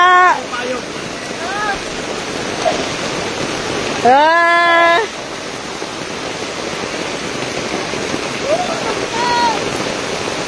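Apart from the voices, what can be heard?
heavy rain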